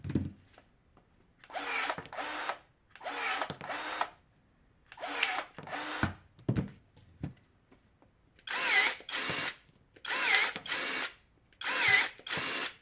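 Parkside PPAAS 20-Li A1 cordless pruning shears cutting relatively soft wood: a run of short motor bursts, first in three pairs, then a faster series of four strong pulses, close and loud with no talk.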